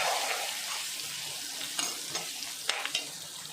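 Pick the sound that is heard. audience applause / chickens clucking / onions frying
onions frying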